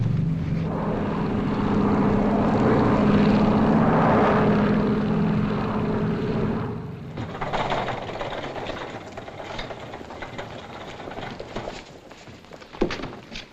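A propeller airplane droning in the landing pattern, a steady engine hum with a buzzing tone that fades after about seven seconds into quieter cabin rumble and faint clicks, with no talk.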